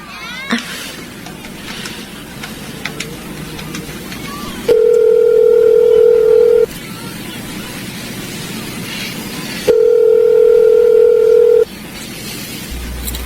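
A payphone dial tone in a radio drama sounds as two steady, loud, pure-tone stretches a few seconds apart, separated by quieter handling and room noise.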